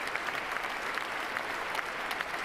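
Inauguration audience applauding, a sustained dense clatter of many hands with sharper individual claps standing out, steady and moderately loud throughout.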